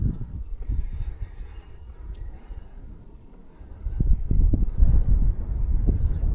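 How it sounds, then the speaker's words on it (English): A headwind buffets a cyclist riding uphill on a bicycle, heard as low, rumbling gusts of wind across the microphone that ease briefly and then strengthen in the second half. "I think there's a little bit of a headwind"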